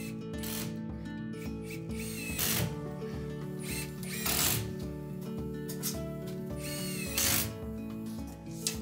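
A power driver sinks long screws to fix a wooden stair tread to a wall, its whining motor running steadily with several louder bursts of grinding and rattling, close by and with no speech.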